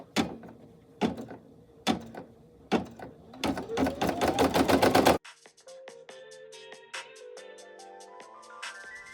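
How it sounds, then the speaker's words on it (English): An embroidery machine stitches the placement outline for an appliqué, giving rapid rhythmic needle clatter that speeds into a dense burst, then shifts to lighter, evenly spaced ticking with a faint rising hum. "press the green button to start the machine. The first stitch is going to be the placement stitch for the outline."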